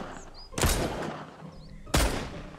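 Two loud gunshots fired in the survival game Mist Survival, about 1.3 seconds apart, each a sharp blast with a lingering echo over quiet ambient game sound.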